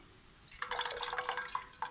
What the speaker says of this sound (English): Just drain off some of that water.